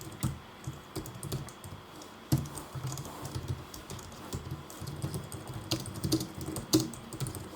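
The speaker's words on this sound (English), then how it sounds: "So I type in try and then tab 2 times to have this entire block created for me." Code being typed on a computer keyboard, irregular clusters of close, crisp key clicks with brief pauses between bursts, no voice present.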